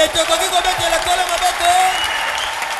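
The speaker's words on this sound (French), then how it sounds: "Est-ce qu'on peut acclamer le Seigneur?" A church congregation claps and cheers in acclamation of the Lord during a Feast of Tabernacles service, a dense, loud, continuous wash of applause with a sustained tone running underneath.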